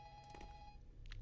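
A telephone rings faintly inside a spooky horror video game, a high steady electronic tone with short ringing bursts over low background rumble, distant and muffled.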